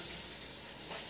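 Food sizzles and spatters in a frying pan as a steady, close, bright hiss with no breaks and no voices.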